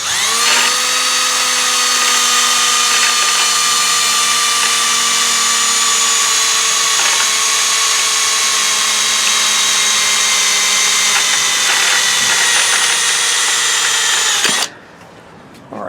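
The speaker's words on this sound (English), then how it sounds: "I'm going to drill 2 holes in the bottom of the seal" A power drill bores holes in the crankshaft seal of a Kohler Courage lawn tractor engine, a loud, steady high-pitched whine that runs for about fifteen seconds before cutting off.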